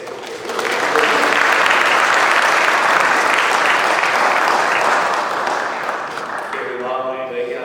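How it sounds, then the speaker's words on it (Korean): A church congregation applauds the worship team, sustained dense clapping filling the room for several seconds before tapering, with a faint voice emerging near the end. "한번 경례의 박수 한번 보냈으면 좋겠어요."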